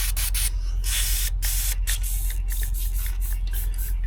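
WD-40 sprays onto parts of a 1975 Simson engine in a rapid series of close hissing bursts, short gaps between them, with no talk.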